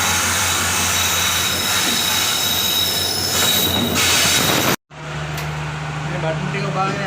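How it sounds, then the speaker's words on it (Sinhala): A train bound for Jaffna arrives, wheels squealing loudly over a heavy rumbling roar of rail cars close by, which cuts off abruptly to a quieter low hum of the station. "ඉතින් ඔය එන්නේ අපි යාපනයට යන ට්‍රේන් එක."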